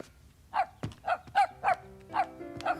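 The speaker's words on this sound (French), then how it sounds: "Il aboie, grand-maman." Small dog barking indoors in a kitchen, a run of about seven short, clear barks at a steady pace, fairly close and alone.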